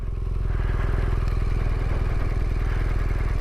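A BMW R1200 R motorcycle's boxer engine runs with a steady, pulsing, throbbing beat, close and loud and continuous throughout, with no speech over it.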